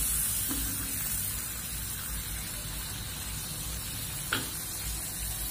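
Hard vegetables such as carrots, potatoes and green beans sauté with a little water and spices, giving a steady hissing sizzle with a couple of brief clinks from stirring.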